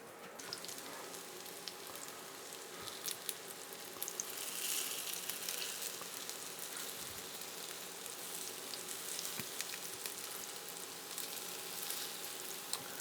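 Glamorgan veggie sausages fry in a pan with a steady, dense sizzle and fine crackle that runs the whole time, fairly quiet and close, without voices.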